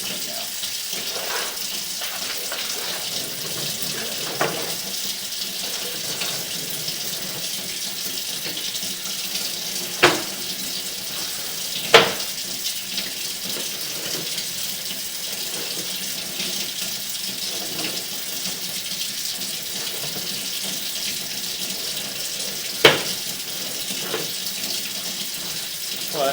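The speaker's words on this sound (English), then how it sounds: "With running the water, it would also highlight any low spots or bellies." Water runs steadily through a house drain line during a sewer camera inspection, a constant hiss and trickle with occasional sharp knocks and clicks standing out now and then.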